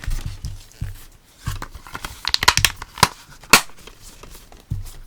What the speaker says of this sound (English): I shut the DVD case.